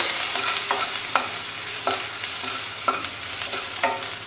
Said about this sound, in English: I have heated the oil and I am adding chopped garlic